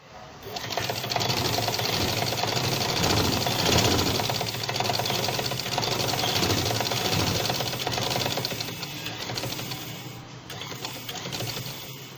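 Sewing machine running steadily while stitching both sides of a fabric sleeve, a continuous mechanical whir close by that persists for most of the span with little pause.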